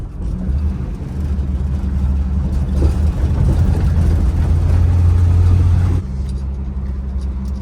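A 1973 Plymouth Scamp's engine runs while the car drives along, a steady low rumble that swells in the middle and then eases back, heard from inside the car, with no talk.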